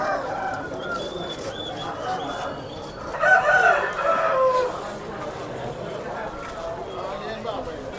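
Scattered chicken clucks and a brief crowing call rise over a busy outdoor crowd murmur at a poultry market in Gokavaram, with birds close by and people chatting throughout.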